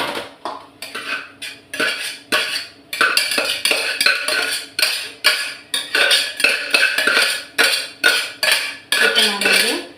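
Cooked white rice is scraped and tipped into a pot, giving a close run of rhythmic metal scrapes and clanks of spoon against vessel, without talk.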